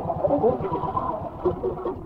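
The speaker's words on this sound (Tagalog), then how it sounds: "Yan mga George, daming ibon." A flock of birds calls near a fishing boat off Boracay. The overlapping chattering and clucking is moderately loud over a low, rhythmic engine-like throb, with no talking.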